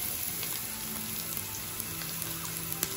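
Garlic sautéing in a pan with bacon for a coconut-milk chicken adobo made with native chicken and lemongrass, a constant dense sizzle with scattered crackles, close and steady throughout.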